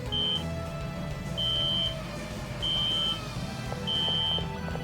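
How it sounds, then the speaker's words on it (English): Repeated electronic beeps from the Phantasy Star Universe video game sound over game music, four evenly spaced steady tones, each about half a second long, with no talk. "So we've got beeping over here."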